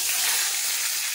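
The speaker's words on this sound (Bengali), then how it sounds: "এখন বেগুন ভাজা হচ্ছে" Eggplant (brinjal) slices fry in hot oil with a dense, steady hiss, loud and close throughout the short stretch, without voices.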